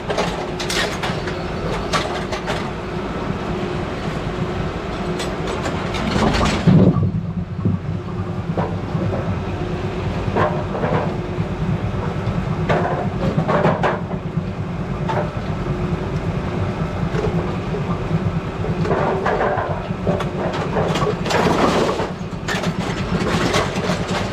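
A Brunswick bowling pinsetter rake drags during adjustment of the machine. It makes a continuous mechanical rumble with rattling clatter, dips briefly partway through and then returns to the same steady churning.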